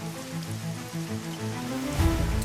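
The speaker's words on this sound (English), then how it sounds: "Rain hammered the walls, but here its roar was a shield, not a threat." Steady rain drumming on the walls of a hot tent during a solo camping and fishing trip, a dense constant patter with a low hum underneath, no voices.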